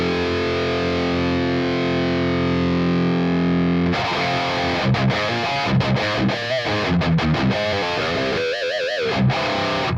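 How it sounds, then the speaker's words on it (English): Electric guitar through an overdrive pedal dialed for a metal tone: a long sustained distorted chord rings out, then gives way to choppy, palm-muted riffing with stops and bends, loud and upfront with no talking. "And then I add the drive, because I want to have that little bit of that overdrive's drive in the sound."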